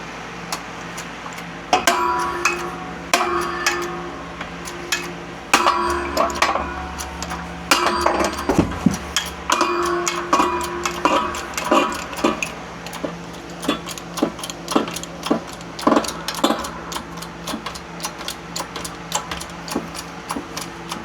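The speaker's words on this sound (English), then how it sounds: "now we're just pressing out this bushing" Suspension bushing being pressed out on an R53 MINI Cooper during a rear bushing job, heard as irregular metallic clicks, ticks and clinks with occasional heavier knocks, close and moderately loud, with no talking.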